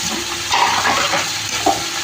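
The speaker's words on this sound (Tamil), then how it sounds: "நல்லா கிளறி விட்டு வதக்கணும்." Tomatoes sizzle steadily while being stirred and sautéed in a pan for chutney, with constant frying hiss and a few scraping stir sounds, close and loud with no talking.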